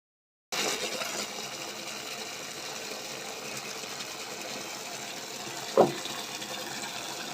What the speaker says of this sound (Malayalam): ഇനി ഈ ബക്കറ്റ് ഫുള്ള് നിറച്ചാൽ തന്നെ അത് ഡൈല്യൂട്ട് ആകും